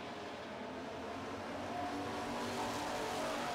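Street stock cars roar around an oval track during a heat race, a dense steady engine drone that swells slightly louder toward the end with no voices.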